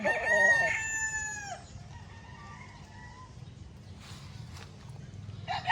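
A rooster lets out a loud, close crow at the start, followed by quieter clucks and faint footsteps in a calm outdoor setting.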